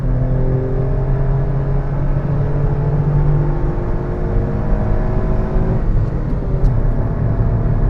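A BMW M140i's engine pulls hard along a country road, a loud, steady, throaty drone heard from inside the car with no talk.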